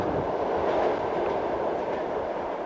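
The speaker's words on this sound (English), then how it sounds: "As the train ploughs home" Train running steadily on its rails on a homebound journey, a continuous dense rumble with faint clatter, heard from on board and close, with no talking.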